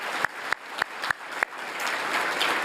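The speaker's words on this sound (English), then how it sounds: "I think just a round of applause for everybody back there." Applause from a small group at a student center gathering: a few sharp, separate claps at first, then a softer, steadier patter of clapping that fills the rest, moderately close.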